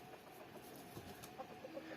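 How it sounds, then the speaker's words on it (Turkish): Faint, soft clucks from a few chickens in a village over a low background hum, distant and intermittent. "Bak Tavuklar da mısır sılacına gelmişler"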